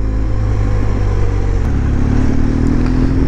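A motorcycle engine moves from closed to open throttle while riding on a greasy road in road mode, a loud, close, steady engine drone that shifts pitch upward partway through, with no talk.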